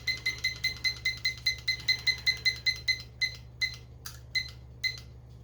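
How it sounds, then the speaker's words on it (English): A kitchen timer for rising whole wheat bread dough beeps in a quick steady run of about sixteen bright double-toned chirps, then slows to a few spaced beeps, close and clear over a low hum. "We'll go ahead and set our timer again."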